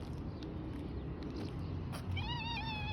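A single cat meow near the end, rising and wavering, over a steady background hiss.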